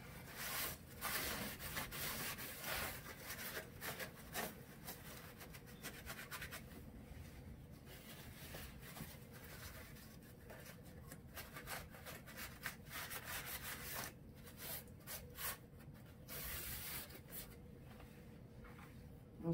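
Paint being rubbed back off painted wood siding on a dollhouse, a steady close scrubbing and rasping friction that runs continuously with brief uneven strokes and no talk.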